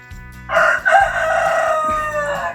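A rooster crows loudly nearby, one long drawn-out call over a low rhythmic mechanical hum in the background.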